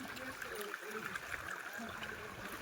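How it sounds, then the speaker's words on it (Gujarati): A hill stream runs over stones in the Datar hills near Girnar, Junagadh, making a steady, soft murmur and trickle, with voices faintly present. "આમાં પાણી હાલે છે અને આમાં પથ્થરો છે"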